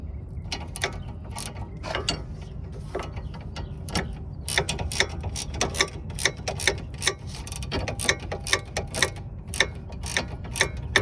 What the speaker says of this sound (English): Get your 18 millimeter ratchet, your wrench, and go on and tighten that down.